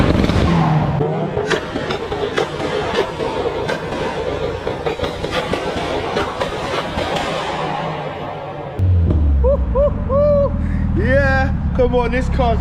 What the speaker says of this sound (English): Give me some more of that anti-lag, bro, the bangs.